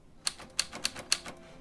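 Typewriter keys striking in a quick, uneven run of about six sharp clacks, close and fairly soft, with no voices.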